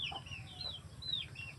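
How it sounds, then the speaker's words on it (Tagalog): Large chickens of several breeds in a coop, clucking and calling in short rising and falling cries over a steady low rumble. "Malaki po ang mga manok na yan."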